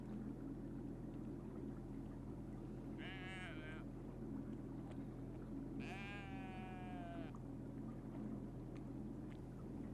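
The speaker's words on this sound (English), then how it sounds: "Geese and sheep." Two sheep bleats, one short and one longer, carry from a riverside field over the steady low drone of a canal boat engine on a tidal river.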